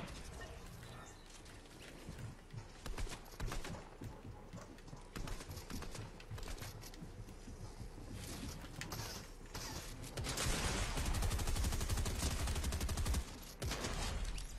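Rapid gunfire in a video game, with volleys of sharp shots crackling in quick bursts over a busy game soundscape, growing louder and denser toward the end.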